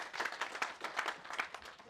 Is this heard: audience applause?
yes